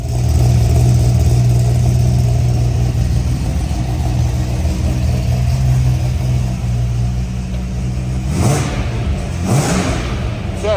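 Holden LJ Torana GTR XU1 running with an XU1 exhaust, a steady loud engine drone close by with a couple of brief rises near the end and voices talking over it.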